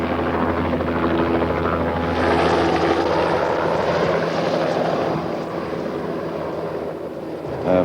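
A helicopter flies as an aerial camera platform during location filming for the James Bond film A View to a Kill, its steady, loud rotor and engine roar continuing throughout with a slight dip near the end.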